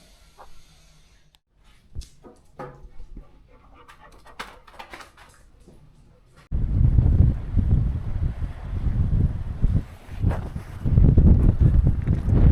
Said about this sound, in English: it's windy as proper pain